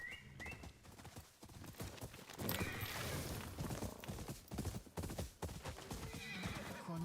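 Horse in the video game Ghost of Yōtei whinnying loudly, followed by rapid clip-clop of hooves galloping, with further neighs and hoofbeats continuing near and clear.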